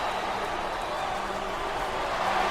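A packed arena crowd in WWE SmackDown vs. Raw 2007 keeps up a constant, fairly loud roar with scattered clapping mixed in, an even wall of noise throughout.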